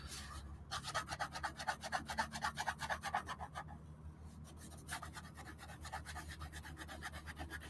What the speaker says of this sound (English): Let me sharpen.